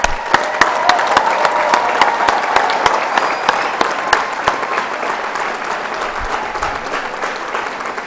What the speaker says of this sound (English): Can we please give a large round of applause for the students from Building Technology and Biosciences, please?